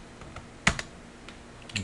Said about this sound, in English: I'm going to type in 1/4.